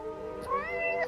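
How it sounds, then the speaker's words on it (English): A calico cat in the video game Forspoken gives a clear, rising meow, close and fairly loud over a low steady game background, with no talking. "Chasing the calico cat completed."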